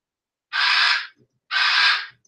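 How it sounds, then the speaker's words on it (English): Two loud, harsh bursts from a pet bird, each lasting about half a second with a short gap between them, up close and with no talking. "Talking about loud and obnoxious birds."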